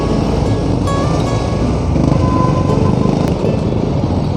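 A Rothmans motorcycle engine runs steadily and loudly nearby, a continuous rumble with broad roadside noise and no speech.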